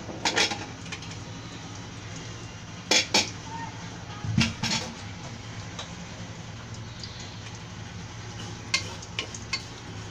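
Pressure cooker lid being opened in a kitchen while cooking beef trotters, with scattered metallic clanks and taps of pots and utensils, some sharper knocks among quieter rattles and a low background hum.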